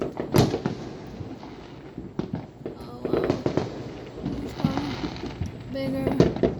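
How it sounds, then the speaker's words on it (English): Fourth of July 2020 fireworks near Tamarack and Coral Springs: scattered bangs and crackling bursts, some sharp and close, others softer, while people talk and exclaim over them. "bigger fireworks."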